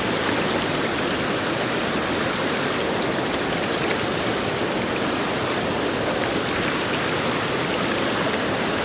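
Pennsylvania mountain trout stream in a cold ravine rushing over rocks, a steady close hiss of flowing, splashing water with no pauses and no voices.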